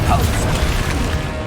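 A Depulso spell cast in Hogwarts Legacy, a dense, loud rushing blast with a booming low rumble and crashing texture that fills the whole moment.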